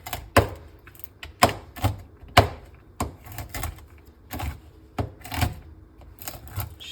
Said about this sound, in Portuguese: Vou picar aqui um pouco